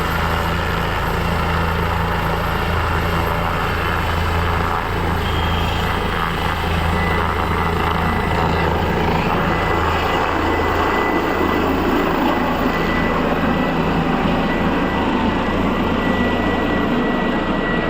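Helicopter landing at a village political rally among sand dunes in Rajasthan, a loud, continuous, close rotor and engine roar with a deep low drone and a dense noisy wash throughout.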